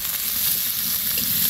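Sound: onions frying in oil

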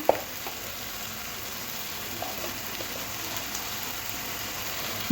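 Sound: spice masala sautéing in hot oil for egg devil

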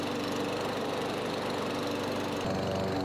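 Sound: small lawn mower engine running after sitting three years

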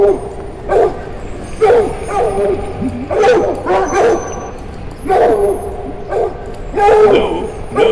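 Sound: dogs barking and whimpering in the video game There's something in the ice

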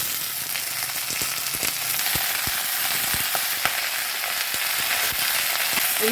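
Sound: eggplant frying in a pan

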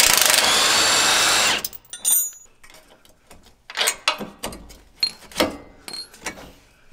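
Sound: socket wrench disconnecting Jeep Wrangler shocks at lower mounts

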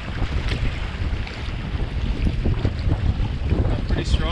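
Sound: wind and choppy waves while paddling on a lake

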